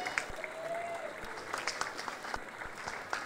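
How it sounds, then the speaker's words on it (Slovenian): A crowd at an outdoor fair applauds a folklore dance group; the clapping sounds fairly distant and soft, with scattered louder claps and faint crowd murmur underneath. "En lep aplavz za folklorno skupino."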